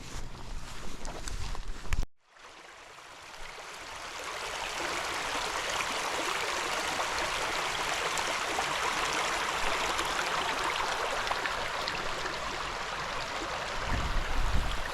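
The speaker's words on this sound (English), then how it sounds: "There's a little stream here" A small stream flows nearby outdoors, a steady close rushing and babbling that starts after a brief rustle and holds evenly throughout.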